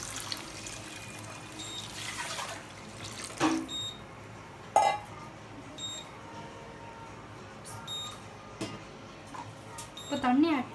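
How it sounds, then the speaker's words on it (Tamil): Water poured into a cooking pan and stirred, faint liquid splashing and scraping with a few sharp clinks of utensil against metal, and someone talking over it. "இப்போ தண்ணி ஆட் பண்ணிவிட்டு நான் மிக்ஸ் பண்ணிட்டு இருக்கிறேன்."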